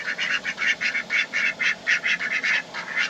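A duck quacks steadily in a quick repeated series of about fifteen nasal calls, close and clear, with no voices.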